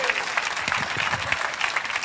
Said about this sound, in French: applaudissez cette grande vision